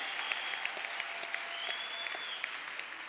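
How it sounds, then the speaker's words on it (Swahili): A church congregation claps and cheers continuously, a dense, fairly distant wash of applause with scattered sharper claps throughout. "Je unaweza shangilia kwa makofi?"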